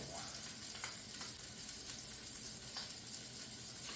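A bacon, egg and cheese sandwich sizzles steadily in a skillet, a close, even frying hiss with faint pops and crackles and no talk.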